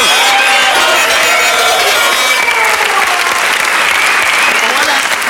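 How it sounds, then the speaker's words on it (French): Sustained applause from a television studio audience on a French game show, steady and dense throughout, with a voice faintly audible under the clapping. "Dorothée, mesdames, messieurs, on l'applaudit."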